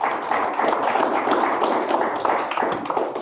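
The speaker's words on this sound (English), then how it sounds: "Let's give a round of applause to Courtney." An audience at a community meetup gives a brief round of applause, dense, even clapping that fills the room for a few seconds.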